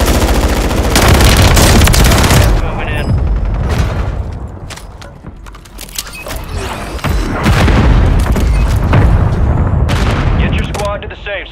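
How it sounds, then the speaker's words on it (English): Mortar strikes in Call of Duty, heavy booming blasts landing one after another amid machine-gun fire, loud and close, with voices talking over the barrage. "Mortar strike inbound now"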